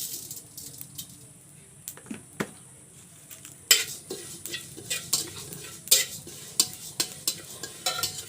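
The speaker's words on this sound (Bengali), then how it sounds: "হাঁসের মাংস রান্না করার জন্য আমি প্রথমে কিছু আস্ত জিরা ভেজে নিচ্ছি।" Whole cumin seeds fry in a pan as the first step of a country duck curry, giving a soft, close sizzle broken by frequent sharp scrapes and clinks of a spatula stirring against the metal.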